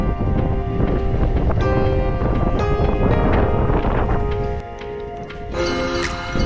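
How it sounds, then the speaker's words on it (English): Howling storm wind batters the microphone during a boat crossing before kiteboarding, loud and continuous with rattling and ticking noises, dipping briefly near the end before rising again. "It is feeling howling windy"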